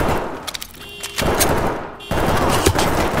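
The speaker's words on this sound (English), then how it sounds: "Never mind, this gun's still awesome." Loud automatic gunfire from a weapon in a military shooter video game comes in rapid bursts, with a short lull between the first stretch of firing and a final volley.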